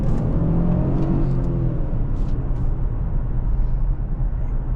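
Lincoln MKZ Reserve 3.0L V6 from 2020 accelerating hard from about 27 mph after a downshift in comfort mode, a steady loud engine roar and road rumble heard from inside the cabin.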